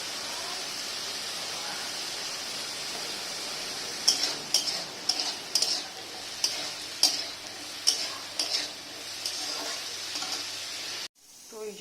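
Spices and curry with turmeric, chili and cumin powder fry in a pan with a soft constant sizzle, while a spoon scrapes and clacks in a quick run of about eight sharp strikes before the sound cuts off abruptly.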